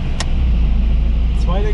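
An Opel Manta engine running in first gear on a dynamometer, a loud steady low drone that rises in pitch toward the end, with a brief voice over it.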